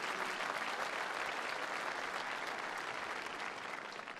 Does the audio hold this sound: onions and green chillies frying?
no